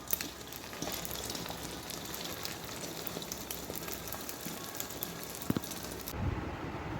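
Eggs fry in a pan with plenty of onion and chili, giving a quiet, steady crackling sizzle with scattered pops that runs throughout and fades slightly at the end.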